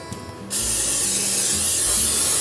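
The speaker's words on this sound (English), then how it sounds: "is take our spray oil. In this case I'm using canola oil" Canola oil bursts from a spray can onto a turkey in a long, loud, continuous hiss that starts abruptly after a brief quiet moment and holds steady to the end.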